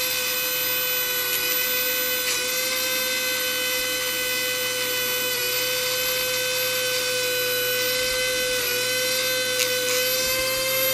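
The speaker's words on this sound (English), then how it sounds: "Kind of speeds it up a little bit using a power tool." A Dremel rotary tool polishing a corroded brass relic gives a steady, high-pitched whine with a constant hum underneath. Close and unbroken throughout, with no talking.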